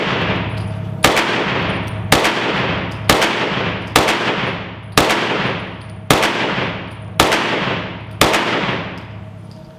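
Gunshots from a Smith & Wesson Shield EZ pistol chambered in 30 Super Carry, fired at a target: nine evenly spaced sharp, loud reports, each ringing out into a short decaying tail, with no talking.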